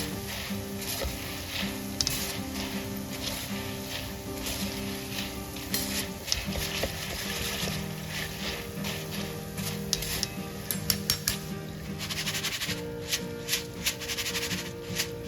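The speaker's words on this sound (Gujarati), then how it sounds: "અને આવી રીતે હલાવતા તળી લેવાના" Puffed rice (mamra) frying in hot oil while a slotted spoon keeps stirring it: a steady crackling sizzle with light scraping and rattling, over soft background music.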